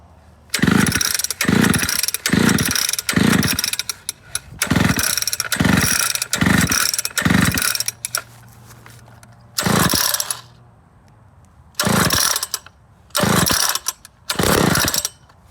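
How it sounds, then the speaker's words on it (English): Pull-start cord of an old Homesite SXL chainsaw yanked repeatedly, sharp rasping ratchet bursts in quick rhythmic groups, then slower single pulls with pauses between, loud and close, the engine not catching. "You just have to crank until they"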